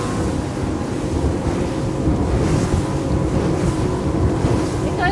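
ZAR Imagine 130 boat running fast on twin Mercury V12 600HP outboards, a loud continuous engine roar mixed with rushing water, wave slap and heavy wind buffeting on the microphone.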